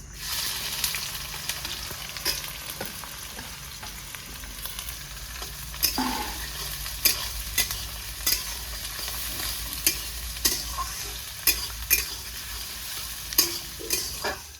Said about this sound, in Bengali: তো বন্ধুরা, তেলটা আমার ভালো করে গরম হয়ে গেছে। এবারে আমি দিয়ে দেবো কেটে রাখা পেঁয়াজ।